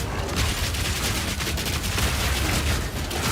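Armor explosions in the video game Path of Exile 2 burst in a dense, loud, continuous barrage of crackling blasts, like rapid gunfire, with no clear talk over it.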